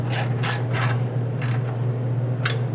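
A ratchet wrench with a 10mm socket tightens a part on a 1975 fuel-injected Volkswagen Beetle during an intake boot replacement, giving several short bursts of quick clicking over a steady low engine hum.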